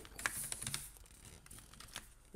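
Fingers type on a computer keyboard in quick soft clicks, close and faint, with short pauses between keystrokes.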